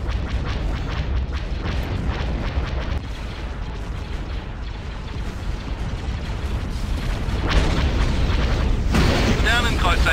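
Dense, continuous booming and rumbling blasts of laser cannon fire and explosions with sharp bursts of fire, loud and chaotic, like a space battle in Star Wars: Empire at War – Forces of Corruption, with voices faintly mixed in.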